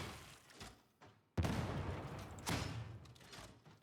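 A grenade blasts against an Ogryn in the Warhammer 40K Darktide video game, a sharp, close explosion followed by a rushing roar, then a second burst amid the noise of combat.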